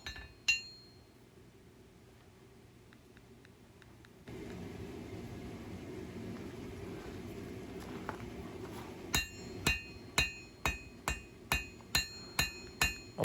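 Hammer blows forging a bushcraft knife from junk steel, starting with a couple of isolated strikes, then a steady series of sharp ringing metallic hits near the end over a low background hum.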